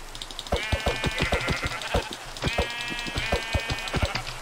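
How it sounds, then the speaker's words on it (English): Minecraft sheep bleat repeatedly in two quick bursts of wavering, nasal cries, clear and close over a faint background hum. "Finally a sheep."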